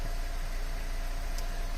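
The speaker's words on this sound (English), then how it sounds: "currently I'm letting the engine warm up for 5 or 10 minutes" A car engine idles while warming up before an oil change, a faint and steady low hum with a soft, even vibration and no voices.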